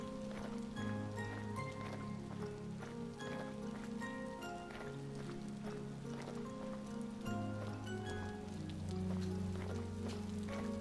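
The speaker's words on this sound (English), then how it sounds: "It sounds like it's raining." Rain in the survival video game Vintage Story patters steadily at low volume, a soft continuous spatter of scattered drops with a faint low tonal bed underneath and no voices.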